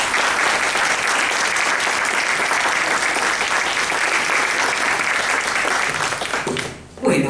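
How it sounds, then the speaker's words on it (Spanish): A crowd at the Casa de la Cultura in Maldonado applauds during a presentation of an inclusive story collection, with loud, steady clapping that holds for nearly seven seconds before dropping off abruptly. "pedimos un muy fuerte aplauso"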